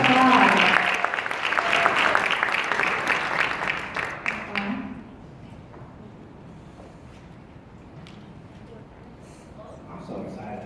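Loud crowd clapping for trainers and vendors at a travel company live event, with a voice over the top at the start, then fading after about five seconds into quieter room noise and murmuring.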